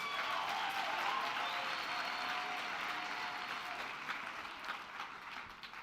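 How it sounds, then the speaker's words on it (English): A graduation ceremony audience applauds the new graduates of a management and commerce faculty, a dense sustained clapping from a large crowd that holds steady before easing slightly. "Can we give them a big round of applause?"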